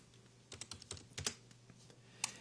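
Keys tapped and a mouse clicked at a computer while working in the Unreal Development Kit material editor, a quick irregular cluster of close, crisp clicks followed by a pause and one last click, with no speech.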